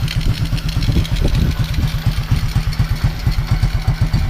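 Honda Wave 125 motorcycle engine idling close by with no air cleaner fitted, a loud, steady fast-thumping putter with an extra noisy, rattly carburetor rasp on top, alone throughout.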